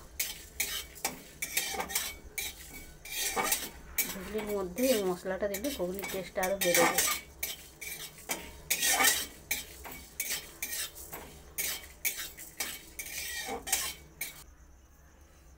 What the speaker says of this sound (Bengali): গোটা জিরা, ধনা, শুকনো লঙ্কা আমি শুকনো কড়াইয়ের মধ্যে